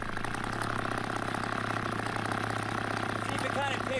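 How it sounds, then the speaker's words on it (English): A gasifier-fueled engine idling steadily, a continuous low mechanical chug with an even throb, close and fairly loud throughout. "at least it's idling"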